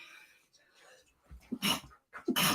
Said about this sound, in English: excuse me for sneezing